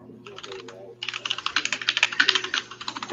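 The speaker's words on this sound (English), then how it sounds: "I'm like furiously typing in this." Fast, furious typing on a computer keyboard, with dense rapid clacking keystrokes close to the microphone over a faint low background hum.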